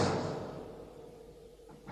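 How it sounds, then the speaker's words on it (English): A rusty portcullis slams shut as a horror audio drama effect: a loud heavy crash that decays into a long, fading metallic reverberation, followed by a faint second knock at the end. "Then the rusty portcullis, as if by some demonic will of its own, slammed shut."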